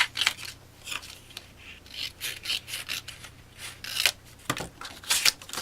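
Scissors cutting score tape during card making, a quick series of close, crisp snips and rustles repeating at an uneven pace, with no talking.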